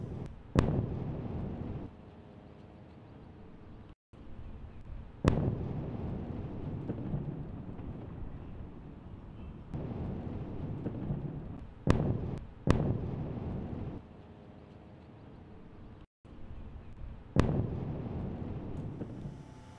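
A bomb explosion plays from a video clip, heard as several booming, rumbling blasts with sharp cracks at the onsets, followed by long rolling low rumbles. The blasts repeat at irregular intervals.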